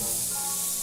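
A nitrogen tube in a lab hisses loudly and steadily after its clamp falls off, a brief continuous spray of gas in the Back to the Future video game.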